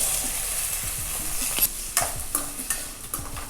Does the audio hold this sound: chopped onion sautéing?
yes